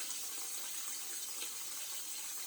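Water sprays steadily from a cold-water bidet toilet in self-cleaning mode, a constant, close, hissing rush with no breaks or voices over the full couple of seconds.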